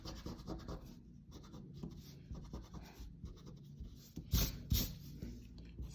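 A pencil drawing being erased on paper, with soft, continuous rubbing strokes up close and a couple of firmer scrubbing bursts near the end, quiet and without speech.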